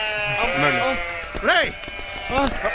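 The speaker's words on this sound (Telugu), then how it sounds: "గొర్రెలు" A sheep bleats close and loud, giving about three wavering, drawn-out calls in quick succession during a comedy scene.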